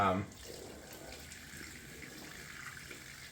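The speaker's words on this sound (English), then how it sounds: "Right, cold water rinse." Cold water runs steadily from a tap for rinsing after a head shave, a soft continuous hiss and splash that follows a brief voice at the start.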